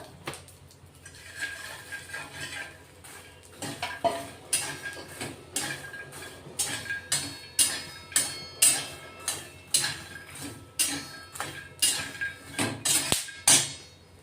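Fox nuts (makhana) roasting in ghee over a low gas flame, stirred with a spoon: a quiet start, then a steady, rhythmic series of dry clacking taps and scrapes against the pan, close and getting louder, with no talking.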